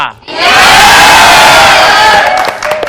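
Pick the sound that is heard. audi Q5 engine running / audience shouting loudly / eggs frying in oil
audience shouting loudly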